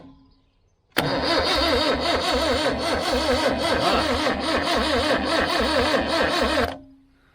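Engine of a vintage Suzuki LJ50 jeep, left abandoned for twenty years, cranks over and catches, a loud steady rhythmic chugging that runs for about six seconds close to the listener before cutting off.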